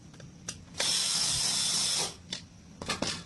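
Screws being undone from the front cover of an electric fan during a repair: a steady whirring burst of about a second from a powered screwdriver, framed by short clicks and scrapes close by, with no talk.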